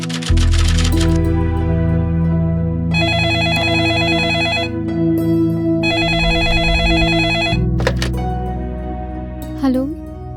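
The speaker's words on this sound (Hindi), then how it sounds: "कितनी देर से तुम्हें फोन मिला रहा हूँ मेघा, फोन बंद था क्या तुम्हारा?" A telephone rings in a dramatized crime-show scene, giving two long bursts of bright electronic ringing over a low sustained music drone.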